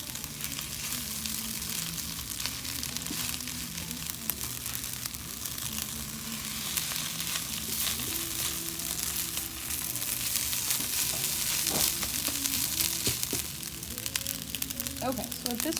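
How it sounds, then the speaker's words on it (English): Cooked egg and rice stir-fry in a pan for chicken fried rice, a steady sizzle running throughout with occasional scraping from a utensil, while a person talks over it. "When your egg is all cooked, you begin to mix that into your rice."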